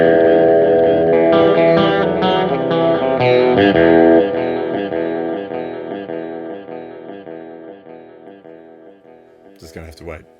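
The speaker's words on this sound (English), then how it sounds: "You can change the input level around, so you can crank it more to get a dirtier sound." A dense, distorted tone with input level cranked passes through a Boss SDE-3000D digital delay, with repeating echoes smearing together and gradually fading, followed by a brief clatter at the end.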